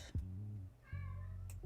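Domestic cat meowing close by indoors, a short cry followed by a longer drawn-out meow, with a brief human voice at the start.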